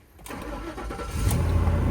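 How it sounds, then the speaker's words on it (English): A car engine is started with the key: a short crank, then the engine catches and settles into a steady, loud idle close by, with no talking. "All right, just put the key in. Let's see if this thing starts."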